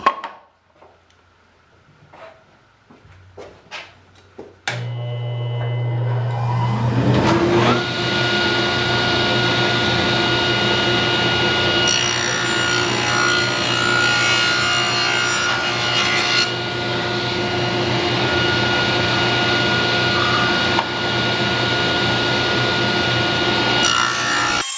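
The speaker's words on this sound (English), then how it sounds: "now I'm going to cut 3/4 inch strips" Power saw ripping 3/4 inch strips from scrap wood: a few light taps and handling knocks, then the saw spins up loudly and cuts in a sustained, gritty whine for the rest of the clip, close and alone.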